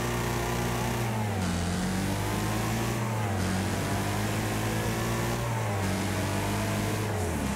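Top-heavy double-decker bus named the Rocket revving hard in Wreckfest, its engine note climbing and dropping through repeated gear shifts, loud and continuous throughout.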